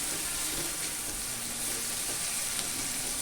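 Onion frying in a pan for a Maharashtrian Shimla mirchi bhaji, a soft, steady sizzle and crackle heard alone at low level.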